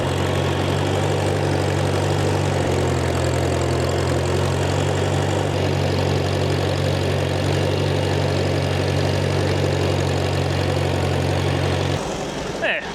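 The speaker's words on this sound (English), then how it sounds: "I'm gonna jump on the tractor and see what happens." Steady tractor engine running at a constant idle-like drone with strong low harmonics while laying mulch rows on a farm field, loud and close for most of the stretch before dropping off near the end.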